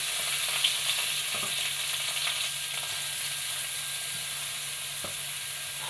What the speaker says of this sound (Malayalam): ഇതൊന്ന് നെയ്യിൽ തന്നെ നന്നായിട്ട് വഴറ്റിയെടുക്കണം ഇത് നെയ്യിൽ തന്നെ കിടന്നിട്ട് നന്നായിട്ടൊന്ന് വെന്തോട്ടെ